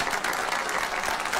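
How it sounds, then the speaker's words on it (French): A brief stretch of steady audience applause on a midday talk show, a dense even patter of clapping with no voices over it. "Maximum d'applaudissements pour Mémé Ono"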